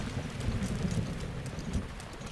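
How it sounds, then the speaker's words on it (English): Steady rainfall in the video game The Legend of Zelda: Breath of the Wild, a continuous even hiss of falling rain at moderate level with no talking over it. "I take 2 steps in any direction, and it's raining."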